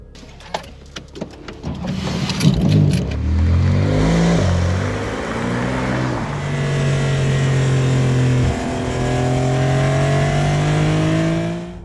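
A Porsche 911 Carrera S starts with a few sharp clicks and knocks, then its engine revs up loud and close, settling into a steady, strong drone as it drives away, with no talk.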